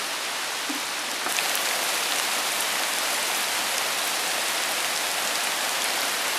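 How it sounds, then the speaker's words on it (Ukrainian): Heavy rain turning to hail pours down continuously, a dense, even hiss of drops striking surfaces, with no voices. "Був дощ і перейшло в град."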